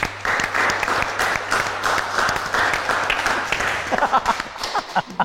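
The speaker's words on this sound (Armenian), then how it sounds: "Այսօր եկեք ծափարություններով դիմավորենք մեր այսօրվա եզրափակիչ փուլի հերոսին, ծափերով։" An audience at a live evening show applauds to welcome the final round's guest, loud sustained clapping from many hands with a low hum underneath and cheers rising near the end.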